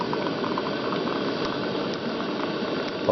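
Hot water pours steadily into an Ace Hardware mug for coffee, a close, continuous rushing splash with no pauses throughout.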